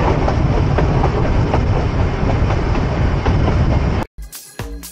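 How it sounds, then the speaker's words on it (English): Ooty toy train running past Ooty Lake after leaving Ooty station, a loud, close rumble with rhythmic wheel clatter that cuts off abruptly near the end, followed by brief bumpy noise. "The toy train leaves Ooty station passing by Ooty Lake on the right side"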